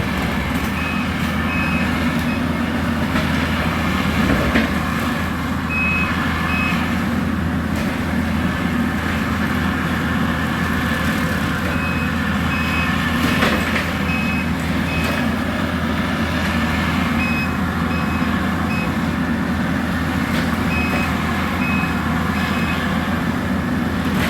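A skid steer running a bush hog through storm debris keeps up a constant heavy engine roar, with a repeated reverse-alarm beep over it. The machine is close and loud, and no one talks.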